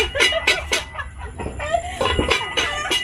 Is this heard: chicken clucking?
yes